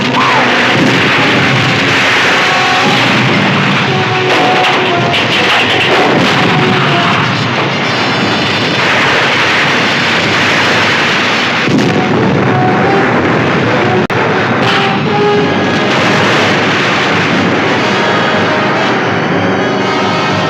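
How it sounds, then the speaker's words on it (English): Naval gun turret firing in a 1961 monster film, a loud, sustained roar of heavy blasts and rumbling that fills the whole stretch with barely a break. "Fire number 1 turret."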